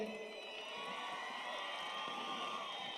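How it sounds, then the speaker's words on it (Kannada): A live audience at the Hampi Utsava festival claps and cheers, a steady faint crowd roar with whoops that holds for a few seconds. "ಇವರಿಬ್ಬರಿಗೂ ಸಿಕ್ಕಾಪಡೆ ಜೋರಾಗಿ ಬರಲಿ ಚಪ್ಪಾಳೆ"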